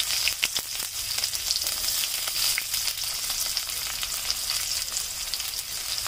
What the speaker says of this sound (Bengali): এবার দিয়ে নিচ্ছি আমরা প্রত্যেকে কুচানো পেঁয়াজ।